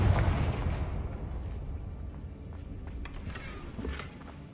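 The Confringo spell bursts in Hogwarts Legacy with a fairly quiet, muffled boom at the start, then a low rumbling tail with scattered crackles and pops fading over a few seconds.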